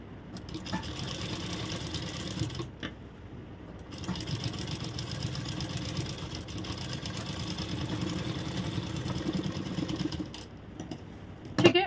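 Sewing machine running steadily while stitching a blouse lining, a continuous mechanical whir with two brief pauses, fairly close and alone without talk.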